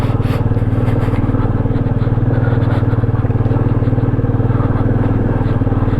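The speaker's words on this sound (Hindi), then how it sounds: "धीमे धीमे वही फर्स्ट गियर वाली राइड में नीचे उतरना है।" Motorcycle engine in first gear rolling slowly downhill on a Himalayan mountain road near Keylong, Himachal, a steady low droning putter held close throughout, with no speech over it.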